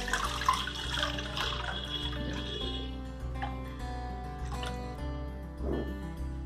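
Buffalo milk pours into a large, thick-bottomed kadai in a steady, close liquid splash that runs the whole stretch, with small gurgles and dribbles toward the end.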